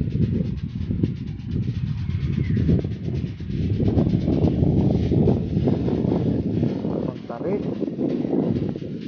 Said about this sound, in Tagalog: Lakas ang hangin dito eh.